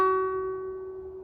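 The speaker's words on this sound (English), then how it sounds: "play the 2nd string, let it ring, and while it's ringing, you're going to hammer down with your pinky" A single guitar note rings out clearly on the 2nd string, a short bright pluck that decays smoothly and alone; the pinky hammer-on itself is barely distinct in the ringing tone.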